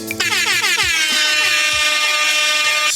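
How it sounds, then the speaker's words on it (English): A loud, sustained air horn blast with a strong harmonic tone, holding steady for about three seconds at full volume. "the air horns means it's time for another episode"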